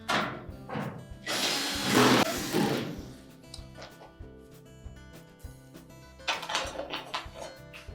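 A powered screwdriver drives screws while a cycling thermostat is installed in a Whirlpool dryer, giving a short buzz, a longer louder whir, then a quieter pause before another burst near the end.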